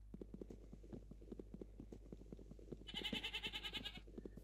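Goat bleating in a repeated pulsing run near the end, loud and close, after a stretch of steady rhythmic clip-clop-like knocking.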